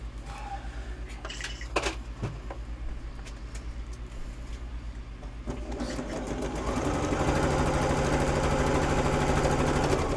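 A sewing machine stitching a bargello quilt starts with faint clicks and handling noises, then runs in a steady rapid whir that grows louder and continuous toward the end.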